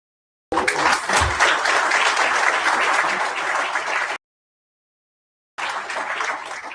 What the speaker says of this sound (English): So please give yourselves a resounding round of applause.